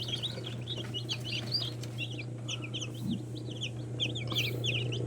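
Newly hatched chicks, 21 days old, chirp in quick, high, repeated bursts over a steady low hum, while a hen clucks now and then nearby.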